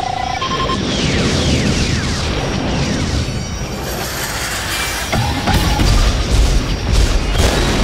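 Ion cannons fire loud, rapid booming blasts and crashing bursts that pile up in a dense, continuous barrage, with a sharp electronic whine briefly cutting through.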